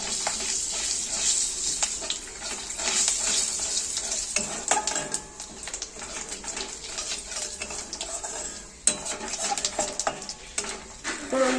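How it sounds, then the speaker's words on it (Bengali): Whole cardamom, cinnamon and cumin seeds sizzle and crackle in hot oil while a spoon stirs and scrapes the pan, a steady close frying hiss broken by sharp bursts and clicks. "ফোড়ন দিয়ে দিলাম এলাচ আর দারচিনি। তার সাথে গোটা জিরে। ফোড়নটাকে নেড়ে ছেড়ে ভেজে নেব।"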